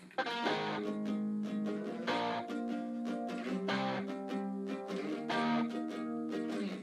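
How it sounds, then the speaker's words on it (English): Layered pre-chorus guitars, triple-tracked electric guitar joined by two panned acoustic guitar tracks, strum steady chords in a bright, continuous pattern with regular rhythmic accents, moderately loud and without voices. "And then the pre-chorus that is added onto by 2 acoustic guitar tracks that I also panned out."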